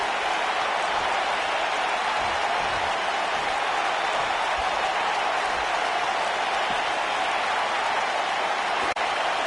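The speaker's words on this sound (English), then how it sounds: "As usual, this Philadelphia crowd is beyond boisterous tonight." A crowd in the WWE 2K19 wrestling video game, billed as a boisterous Philadelphia audience, keeps up a steady, dense roar of cheering and applause for the whole stretch, with no break.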